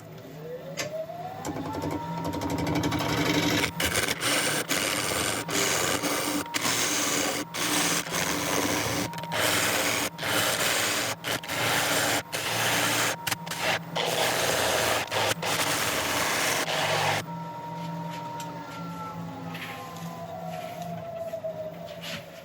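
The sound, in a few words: sharpening a woodturning tool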